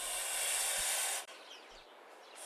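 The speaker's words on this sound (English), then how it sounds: "The sort of hissing sound that a goose makes." A goose hissing: a loud, airy, breathy hiss lasting a little over a second, then cutting off into a softer, thinner rush of air that fades and swells toward the end, close and with no voices.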